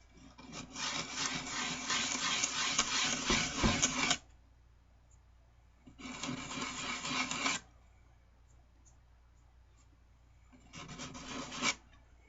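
Three separate bouts of hand sanding with rough sandpaper on a shaped knife scale, each a few seconds of brisk, gritty back-and-forth rasping, close up, with quiet pauses between them.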